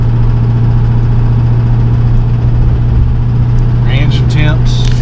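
Steady low drone of an LBZ Duramax diesel pickup engine pulling a dozer on a trailer, loud and constant from inside the cab, with someone talking over it near the end.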